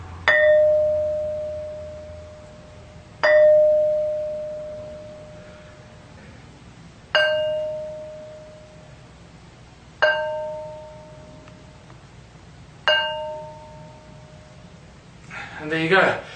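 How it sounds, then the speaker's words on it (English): Stones that ring like bells are struck five times at spaced intervals, each strike giving a sharp clang that rings on and decays slowly with long reverberation, then a brief rustle at the end. "Demonstration how these stones ring like bells."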